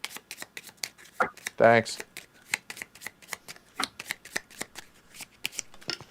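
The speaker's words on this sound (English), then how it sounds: "Let me shuffle." A deck of cards is shuffled for a Power Grid board game session, a run of quick crisp riffles and taps with one longer cascading riffle, close and clear, and a person briefly speaks.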